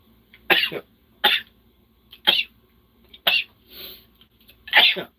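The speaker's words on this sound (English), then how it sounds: "That's how I sneeze." Six short, sharp bursts come one after another at roughly one-second intervals, explosive sneeze-like blasts with quiet gaps between.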